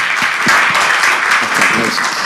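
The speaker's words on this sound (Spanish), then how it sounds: "Aplaudamos entonces." Audience applause at the close of a talk at a panel discussion on quality management, steady and dense for the whole stretch, with a few brief voices cutting through near the start and end.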